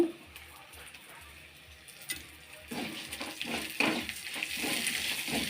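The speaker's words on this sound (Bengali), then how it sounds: "এবারে আমি ডালগুলোও দিয়ে দিলাম, দিয়ে একটু ভেজে নেব" Lentils are tossed into hot oil already tempered with five-spice seeds in a scorched pan. After a quiet start, a close crackling sizzle swells up and keeps going, with light scraping mixed in.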